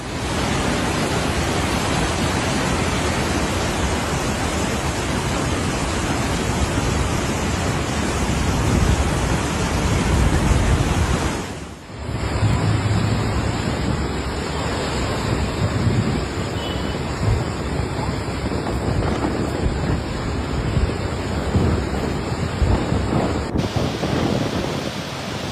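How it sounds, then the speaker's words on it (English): Flood waters surge through city streets in Peru as a raging torrent of mud carrying vehicles and debris, a loud continuous roar with a brief dip midway and a thin steady tone above it later. "Severe flooding in Peru turned city streets into raging rivers of mud, sweeping vehicles and debris along with unstoppable force"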